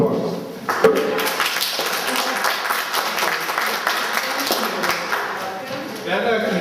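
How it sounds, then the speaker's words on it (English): Audience at a community meeting with a legislative update gives a round of applause, a steady clatter of claps with a few sharper taps, fairly close and mixed with some voices. "So one more round of applause."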